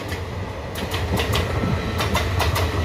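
Hul Express passenger train on Indian Railways passing close by, a steady loud rumble with repeated clickety-clack wheel beats over the rail joints and no voices.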